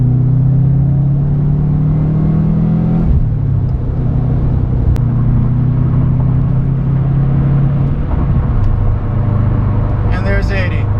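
A GR Subaru WRX/STI's catback exhaust drones low and steady while driving on a freeway, with road rumble underneath and a brief shift in engine pitch partway through.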